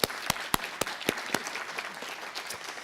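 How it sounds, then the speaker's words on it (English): Scattered applause from a small group, a handful of distinct claps followed by a softer patter that fades. "let's give her a round of applause first"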